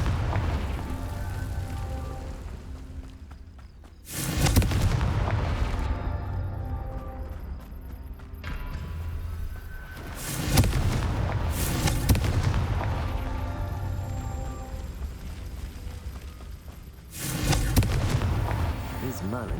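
Three booming blasts of the Confringo explosive spell in Hogwarts Legacy, spaced several seconds apart, each a loud burst that rumbles and fades under a continuous game soundtrack.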